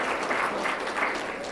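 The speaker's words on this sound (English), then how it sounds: "clap for them" Audience at a city State of the City address applauding, a brief, dense burst of clapping from many hands, steady and fairly loud.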